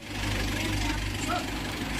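Isuzu Trooper engine running rough with low power, a steady low idle rumble carrying a faint knocking, with faint voices nearby.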